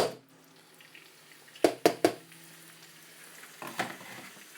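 Diced pork loin frying in a pan, giving a low steady sizzle with a few sharp clattering clicks from the pan or utensil near the start and again toward the end, no talking.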